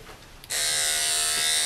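Andis 5-speed electric pet grooming clippers switch on with a sudden loud, steady high-pitched motor buzz that runs close and constant after a brief quiet start.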